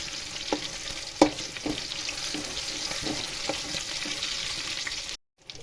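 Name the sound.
dry frying ingredients for tomato pachadi in a pan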